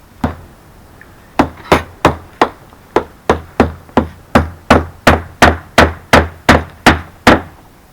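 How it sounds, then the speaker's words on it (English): A hammer drives nails into a roof ridge cap in a steady run of about eighteen loud, sharp knocks, evenly spaced and close up, with no talking. "So we're just going to go ahead and get this all nailed in."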